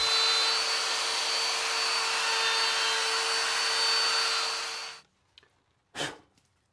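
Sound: router skimming a guitar body cavity

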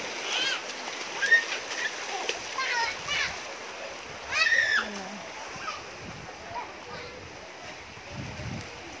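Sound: water splashing while fetching water

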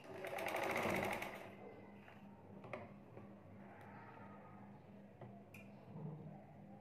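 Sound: sewing machine stitching a baby dress

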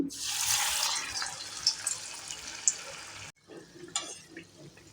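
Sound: green gram vade frying in hot oil on medium flame

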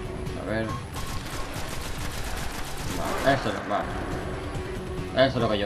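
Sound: rapid gunfire in the video game Destiny

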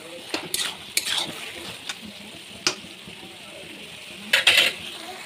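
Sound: stirring ginger in frying pan for posto curry

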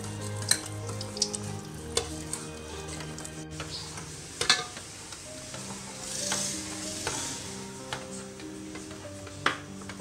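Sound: stirring nihari while adding strained flour paste

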